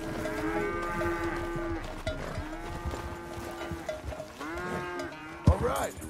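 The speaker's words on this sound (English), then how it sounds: "Greetings, fellow cows." Cattle on a ranch in the video game Red Dead Redemption 2 give several long, drawn-out moos one after another at close range, with a soft thump and brief movement near the end.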